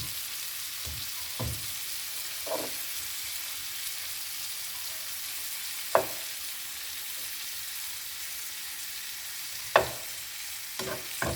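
Spinach greens cook in butter in a pan with a soft, steady sizzle throughout, broken now and then by brief clinks and scrapes of stirring utensils against the pan.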